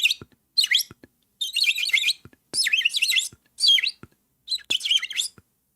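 Birds chirp in six or seven short, bright bursts separated by brief silences, loud and close, with no voices.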